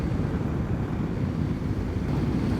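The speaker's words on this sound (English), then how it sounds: "It's getting windy up here." Wind buffets across an exposed coastal hilltop in southern England, a loud continuous low roar and rumble with no pauses.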